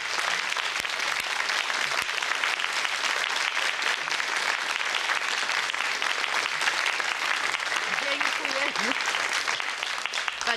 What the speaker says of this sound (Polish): To ja poproszę o duże brawa dla pana.